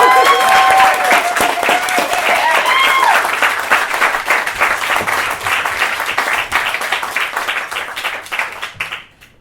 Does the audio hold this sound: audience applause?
yes